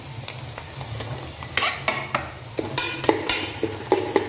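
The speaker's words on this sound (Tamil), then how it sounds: "அந்த எண்ணெயிலேயே இது நல்லா ஒரு வணக்கு வணக்கிடுங்க." Chilli powder, coriander powder and garam masala sauté in hot oil for chana masala, a soft sizzle broken by repeated scraping knocks of a spoon against the pan in an uneven rhythm, close by.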